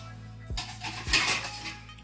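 Metal pot of hot milk being covered with a lid in a home kitchen: two distinct clinks and clatters of metal utensils, close and fairly quiet, with a brief rattle between them and no talk.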